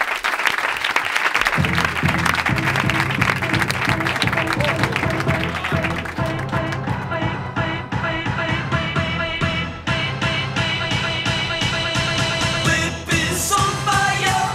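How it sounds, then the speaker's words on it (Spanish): Studio audience on a Spanish comedy radio show applauds for Pablo, brief clapping that gives way to loud music with a heavy beat and bass running to the end. "Un aplauso para Pablo"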